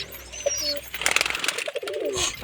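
Pigeons, including Madras and Giribaz types, coo softly while wings flap in a quick burst of rapid beats, close and fairly loud with no talk.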